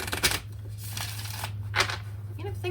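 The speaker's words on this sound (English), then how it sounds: "Let's shuffle these up" A deck of tarot cards being shuffled by hand, with several quick riffling bursts close up against a low steady hum and a voice murmuring in between.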